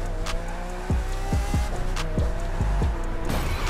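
A car drifts in The Crew 2 racing game, its engine droning and revving while the tires squeal, with repeated sharp knocks and bursts through the short stretch.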